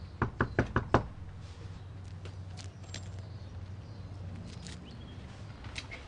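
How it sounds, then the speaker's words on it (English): Knocking on someone's door, five quick sharp raps in a row at the start, then quiet room tone with faint scattered ticks. "the things we say when we knock on someone's door"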